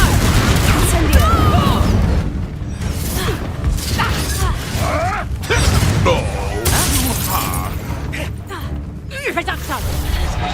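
Confringo and Incendio spell blasts in Hogwarts Legacy crack and whoosh in repeated bursts amid continuous combat noise, with a player's voice talking over them.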